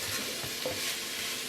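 Sofrito for ragu alla Bolognese cooking in a pot, a soft, even sizzle that holds steady and fairly quiet throughout.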